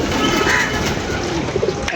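Fancy antique pigeons kept by a hobbyist coo in their loft, a close, soft rolling call standing out against a busy background hum, with no talk.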